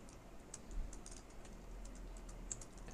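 Quiet, rapid tapping on a computer keyboard while typing HTML code, an uneven run of light key clicks heard close up and alone.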